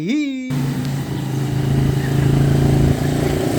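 A habal-habal motorcycle taxi climbs a hill, its engine droning steadily at close range with a rising, strained hum, while wind noise rushes over it and someone speaks briefly at the start.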